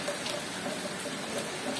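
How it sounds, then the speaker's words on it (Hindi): Heavy monsoon rain falls in Bhagalpur, a steady, moderately loud wash of hiss and pattering with no voices over it. "बहुत ही ज़्यादा तेज़ बारिश हो रही है इस समय"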